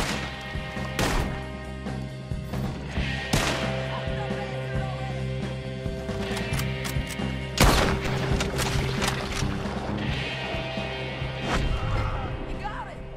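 Gunfire in Red Dead Redemption 2: several sharp, loud shots spaced irregularly over a busy game soundscape of music and ambience.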